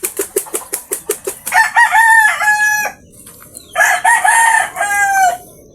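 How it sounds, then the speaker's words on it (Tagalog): A burst of rapid wing flapping gives way to loud, close crowing from roosters mixed with hen clucks, two long crows separated by a short pause. "Yan yung mga pinakawalan natin na mga inahin"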